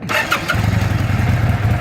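A 2005 Kawasaki Vulcan 800 trike engine with factory exhaust cranks briefly, then catches and settles into a steady, low, throbbing idle close by.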